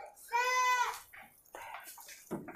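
A goat on a farm high on Mount Kelut gives one loud, wavering bleat while eating, with someone talking and rustling feeding sounds around it.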